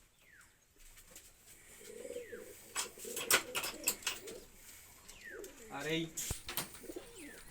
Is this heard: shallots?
no